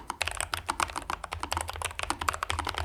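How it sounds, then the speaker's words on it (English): Typing on a Newfie Air 75 V2 mechanical keyboard at a MacBook desk setup, a rapid close run of crisp clacky keystrokes in an uneven rhythm, alone with no voices. "currently I'm really liking the Newfie Air 75 V2. It's mechanical, and the typing experience has been pretty positive."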